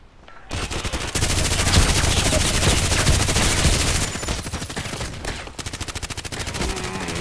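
Sustained automatic machine-gun fire in the online shooter Contract Wars, loud and dense bursts running almost continuously, with a brief pause near the end before more rapid shots.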